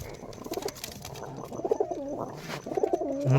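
A pair of Rajshahi Giribaz pigeons coo close by, several soft rolling coos in repeated bursts with light rustling and no talk over them.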